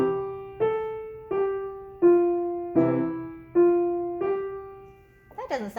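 Piano playing the melody of London Bridge one note at a time without the left hand held down, seven clean separate notes in an even rhythm, each decaying before the next, soft and close, a brief breathy noise at the end.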